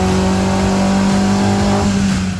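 A turbocharged Vauxhall VXR with a 2.5-inch Miltek catback exhaust revs loudly and close by. The deep, throaty engine note rises and falls in pitch over a couple of seconds, with no talking.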